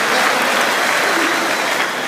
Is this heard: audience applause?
yes